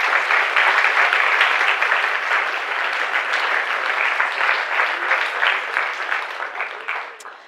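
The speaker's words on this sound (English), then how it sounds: "please join me in giving them all a big round of applause" Loud, sustained audience applause at a venture-pitch competition final, honoring the pitch presenters, holding steady before tapering off at the end, with no talk over it.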